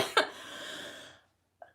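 A single person gives one harsh cough with a raspy, breathy tail lasting about a second, followed by a brief faint sound, fairly quiet and with no talking.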